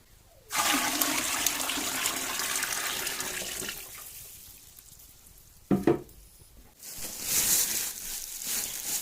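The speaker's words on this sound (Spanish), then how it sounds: "En este momento le voy a colocar agua." Water pours steadily into a pot for cooking corn into nixtamal for homemade tortillas, a close, continuous rushing splash that pauses briefly, gives a short clatter, then resumes.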